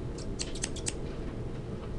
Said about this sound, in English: That's why I've got scissors.